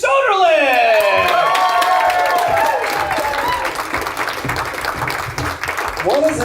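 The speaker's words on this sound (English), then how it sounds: "I want to hear a huge round of applause" A comedy-club audience claps, cheers and whoops for a stand-up comedian making his stage debut, the applause loud and sustained at first and thinning slightly toward the end while a voice calls out over it.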